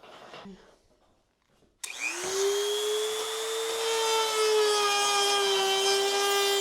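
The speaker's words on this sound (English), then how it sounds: "we are going to sand that out with the sanding tool on this Dremel" A high-pitched Dremel rotary tool with a sanding attachment whines up sharply and holds a steady, loud buzz, with faint grinding against the work beneath the tone.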